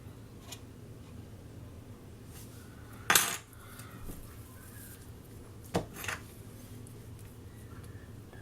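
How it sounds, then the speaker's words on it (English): Edges of apple pie pockets being crimped, with faint scattered taps and two sharper clinks of cutlery against a dish over a quiet background. "We're just going to go down and crimp the edges."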